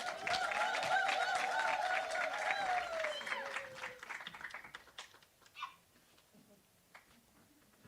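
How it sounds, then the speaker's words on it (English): Applause from the audience at a women's entrepreneurship graduation ceremony, dense and loud clapping for about four seconds that then thins into scattered claps and fades. A tonal voice-like sound runs across the start. "I think we should give another round of applause to our class presidents for Cohort 2 and Cohort 3, Miss Mercy"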